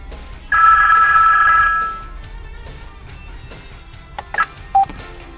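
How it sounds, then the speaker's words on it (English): An incoming phone call rings through a hands-free Bluetooth rear-view mirror in a car, one loud electronic tone burst lasting over a second, then a few short beeps, close and alone. "Receiving a call."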